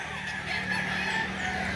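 Chickens at a poultry auction market in Lipa, Batangas, heard as a dense, steady mass of clucking and calling in the middle distance, with no single bird standing out.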